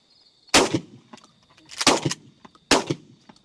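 Shotgun blasts during an outdoor dove hunt: three loud, sharp reports spaced about a second apart, each with a short rolling echo, over faint open-field ambience and a steady high insect-like hum.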